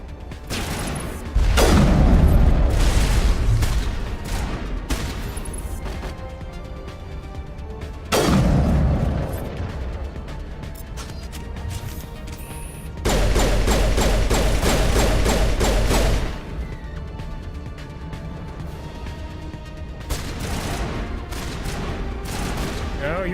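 Garrus opens fire in Mass Effect 1: several loud bursts of rapid gunfire and booming shots in separate volleys, with someone talking between them over a low background hum.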